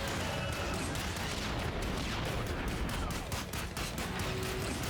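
Rapid, dense shooting at a boss in ScourgeBringer, a relentless stream of close, loud bullet shots with crashing impacts and game effects layered throughout.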